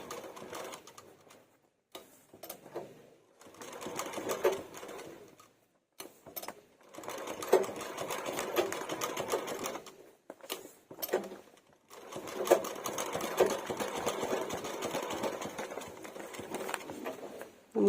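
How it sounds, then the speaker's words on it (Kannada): A sewing machine runs in bursts of rapid, even needle stitching, pausing and restarting several times while sewing round stitches, close and moderately loud with no talking. "ರೌಂಡ್ ಸ್ಟಿಚಸ್ ಇದೇ ರೀತಿ ಹಾಕೋಬೇಕು ನೀವು"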